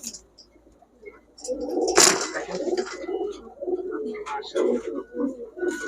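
Several pigeons coo in low, throaty rolls close by, mixed with a sharp crack, wing flutters and occasional chirps.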